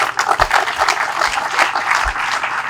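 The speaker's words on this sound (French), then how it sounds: "Vos applaudissements, s'il vous plaît." An audience applauds steadily and fairly loudly at a ceremony on gas exploitation at Lake Kivu, with dense, sustained clapping throughout and no speech over it.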